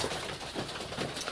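A male pigeon coos in winter while chasing a female dove, a soft repeated low cooing at close range over a steady outdoor background hiss.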